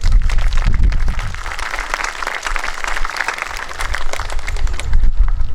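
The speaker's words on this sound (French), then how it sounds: "On peut les applaudir aussi." A congregation at a Catholic Mass installing a pastoral team and sector leader applauds former sector leaders, a loud, dense, sustained burst of many hands clapping in a reverberant church, with low rumble underneath.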